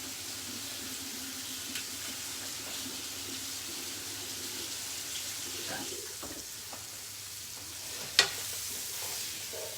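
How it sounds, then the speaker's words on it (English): Mushrooms sizzle and fry in a pan beside a cooking deer steak stroganoff, a soft steady hiss with faint stirring scrapes and one sharp click near the end, under a low room background. "I'm going to put some mushrooms in because those need to start cooking"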